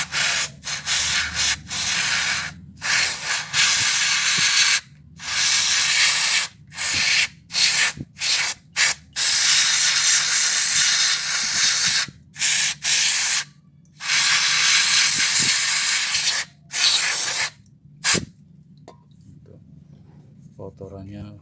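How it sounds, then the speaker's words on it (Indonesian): Carburetor cleaner hisses from an aerosol can onto crusted motorcycle parts in a repair shop, long loud bursts of spray separated by brief pauses, with a voice talking faintly beneath. "buat merontokkan kerak yang membandel kita pakai carbo cleaner dulu ya"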